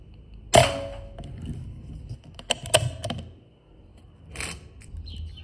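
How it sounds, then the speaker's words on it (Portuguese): A PCP B57 .45 mm air rifle fires at a crystal drink can: a sharp crack near the start, then a cluster of quick metallic knocks and a later pop, with quiet outdoor ambience between. "Quarto tiro na latinha de cristal."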